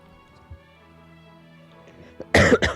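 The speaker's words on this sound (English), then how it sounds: "This goddamn cough, I swear." A single harsh cough bursts out close to the listener after a stretch of near silence, splitting into two quick raspy spasms.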